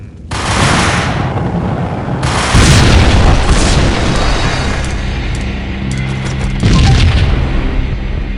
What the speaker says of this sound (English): Another bomb exploded inside the closest slum building.